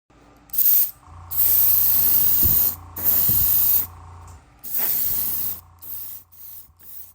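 Black primer sprayed from a can onto a resin model car body, several close, loud hissing bursts of varying length with short gaps between them.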